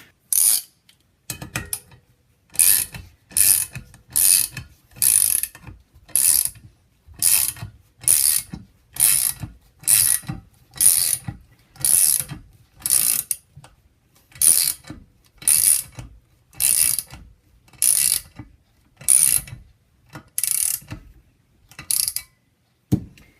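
Ratcheting tool cranked to compress LS engine valve springs for removal, a long run of evenly spaced sharp clicking bursts, close and crisp, repeating steadily with no voices.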